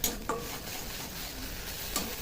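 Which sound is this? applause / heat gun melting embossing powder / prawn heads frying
prawn heads frying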